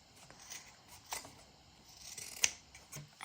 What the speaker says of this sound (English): I'm just going to cut this off completely